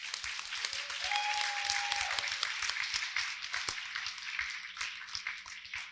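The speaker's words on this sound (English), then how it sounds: "Please join me in thanking them with a round of applause." An audience at a school honor society induction ceremony applauds with a dense, steady round of clapping for about six seconds, heard from inside the hall at moderate volume.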